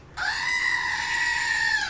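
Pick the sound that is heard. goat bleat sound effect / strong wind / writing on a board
goat bleat sound effect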